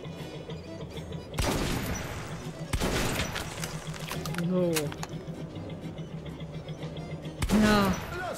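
Shots ring out at a shooting range, two loud, sharp reports a second or so apart followed later by a third, with people talking in between over a steady background hum.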